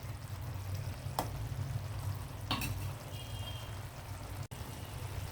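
An egg fries in a pan of oil with a steady crackling sizzle, broken by two sharp scraping clicks as it is turned over, the second a little louder.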